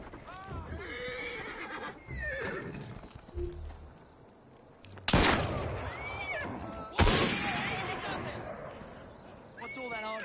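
A horse in the video game Assassin's Creed Syndicate whinnies several times, with loud close neighs over hoof clip-clop, sudden bangs and ongoing game noise.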